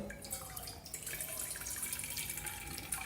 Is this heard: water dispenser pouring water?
yes